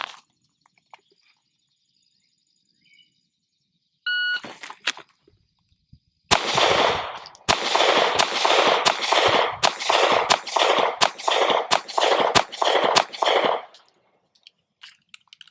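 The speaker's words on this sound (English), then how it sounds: "I'm shooting with the SiC P365XL with 124 grain Lawman." Ten sharp pistol shots from a Sig P365XL firing 124 grain Lawman ammunition ring out in a quick, steady string, each loud crack followed by a short decay, after a few scattered earlier clicks and a brief burst.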